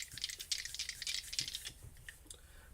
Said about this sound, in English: Now, I'm going to roll the astrology dice